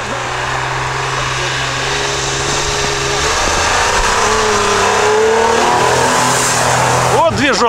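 A Nissan Patrol engine roars and revs steadily and loudly in snow while fitted with tire chains, its pitch rising and falling throughout, with a brief burst of higher whining near the end.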